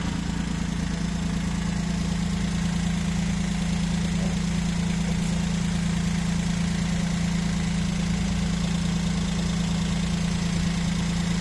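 A 2013 Suzuki Celerio's engine idles close by with a steady, even hum and a faint ticking knock, continuous and unchanging with no talk over it.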